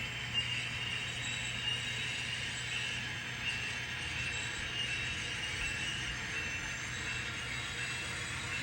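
Model trains run along track at around a scale 10 miles an hour, a steady, quiet rolling hum with a faint whirring motor tone, continuous and unchanging throughout.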